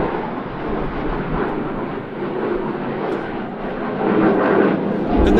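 Steady, loud jet roar of an aircraft flying a negative-G display manoeuvre at an air show, a continuous broadband rumble that swells slightly toward the end.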